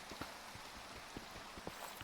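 Steady rain in the Minecraft video game: a dense, even hiss of rainfall with scattered soft drop-like taps, continuous and moderately quiet, with no voices.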